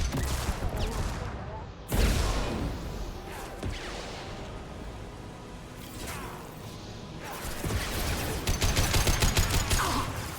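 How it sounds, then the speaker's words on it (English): Heavy gunfire from the video game Mass Effect 2 keeps going without a break, with rapid shots, bursts and whooshes at a constant loud level and a denser spray of fire near the end. "Taking heavy fire."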